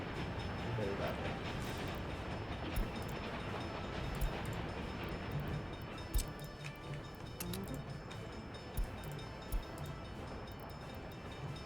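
Train rolling on rails in the video game Workers and Resources, a steady rumble with intermittent sharp ticks and clacks scattered over it, continuous and moderately loud.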